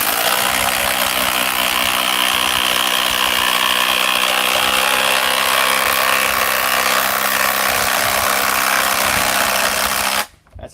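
A DeWalt battery-powered chainsaw running on a Power Stack lithium battery cuts wood with a loud, steady, close-up buzzing whine for about ten seconds, then stops abruptly.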